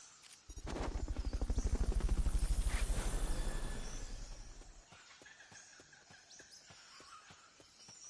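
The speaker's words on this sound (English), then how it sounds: "Fulton recovery subject confirmed onboard helicopter." A helicopter in the video game Metal Gear Solid thumps loudly with fast, steady rotor beats that swell, then fade and leave a quieter rhythmic pulsing.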